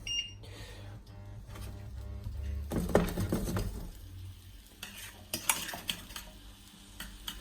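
A spoon stirs porridge heating in a pan with coconut oil, scraping and clinking against the pan in uneven bursts over a soft sizzle, close and moderately quiet.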